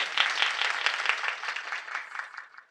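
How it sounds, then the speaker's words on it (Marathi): An audience claps to welcome donors at a week-long religious gathering: dense, lively applause that holds steady, then thins and fades out toward the end. "टाळ्या वाजवून त्यांचे स्वागत"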